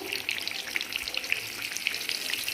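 Cheese-stuffed bread bajji coated in gram flour batter frying in hot oil, a steady close sizzle with small bubbling pops throughout, no voices.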